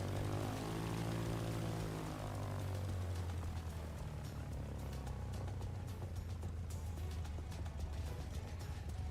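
A propeller plane in a flight simulator game drones steadily, its engine tone sliding lower at first and then holding a constant buzzing hum with no one speaking.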